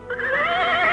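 A horse neighing close by, one loud drawn-out whinny with a wavering pitch that holds strongly to the end.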